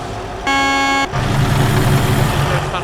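A truck air horn blasts inside a tunnel in American Truck Simulator, one loud, rich, steady honk about half a second long over the heavy drone of the engine and road noise.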